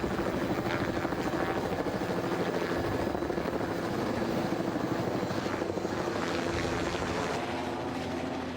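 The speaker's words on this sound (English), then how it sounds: "Today we deployed with a helicopter" A helicopter drones steadily with rapid rotor chop throughout, loud and close, with no voices, flying at Mount St. Helens volcano.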